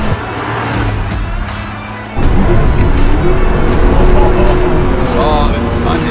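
A car engine hums steadily, then grows louder and fuller as the car pulls away and accelerates, with someone talking over the driving.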